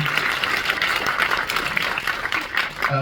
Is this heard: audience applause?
yes